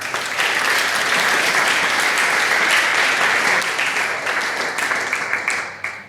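An audience gives a round of applause to welcome a guest from Estonia. The dense, sustained clapping runs steadily and fades out near the end, with no talk over it.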